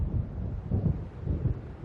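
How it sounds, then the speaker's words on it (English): Low, rolling rumbles of thunder from an approaching storm in Alan Wake Remastered swell and fade in a few heavy pulses, with a windy undertone. "It seems there's a storm coming."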